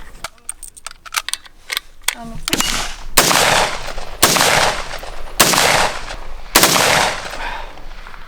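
A few sharp clicks and metallic handling, then four loud gunshots from a NATO-pattern weapon fired at a steady pace, each with a long ringing tail, close by.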